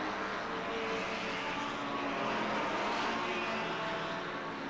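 Formula 1 racing cars at the 1957 German Grand Prix, a dense continuous roar of engines from several cars heard at a distance on an old recording, steady and unbroken.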